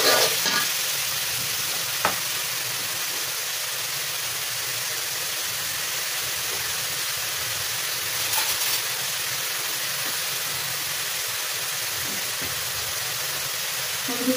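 Coral fish frying in a pan with garlic paste added, making a dense, steady sizzle and hiss with a couple of sharp clicks of a utensil.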